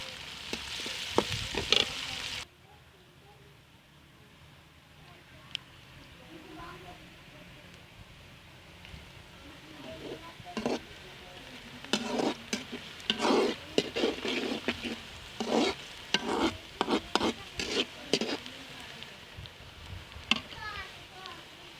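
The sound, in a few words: onions frying and sizzling in a pan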